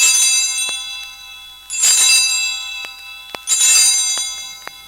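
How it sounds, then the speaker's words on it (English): A small altar bell rings out three times during the elevation at a Catholic Mass, each bright, shimmering peal swelling loudly and then fading slowly in a quiet church. "During the elevation of the host, he rings the bell 3 times"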